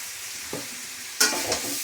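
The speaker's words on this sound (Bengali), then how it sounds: "এখানে এইটাকে আমি ভাজছি" Soybean chunks fry with a little spice in a pan, a soft sizzle broken by two sharp stirring scrapes within a couple of seconds.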